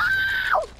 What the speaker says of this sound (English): Did you hear my guy scream?